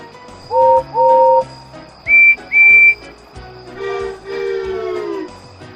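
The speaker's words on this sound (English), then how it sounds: "Respectable engines don't whistle loudly at stations." A cartoon steam engine's whistle from Thomas & Friends sounds in two pairs of short, bright toots, first lower and then higher, over soft orchestral music that swells afterward.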